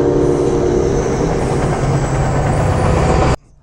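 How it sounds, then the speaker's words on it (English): A train rolls past nearby with a loud, steady rumble and rail clatter, then cuts off abruptly near the end, with no voices. "okay, we got a train."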